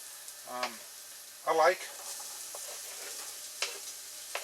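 Onions sautéing in a pan for Moroccan spiced chickpea soup, a soft continuous sizzle with a few stirring scrapes, while someone talks over it in short bursts.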